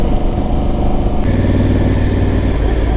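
A Honda Africa Twin motorcycle rides through Normandy with a loud, constant engine drone and rushing road and wind noise, continuous throughout.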